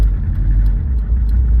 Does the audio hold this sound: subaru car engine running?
yes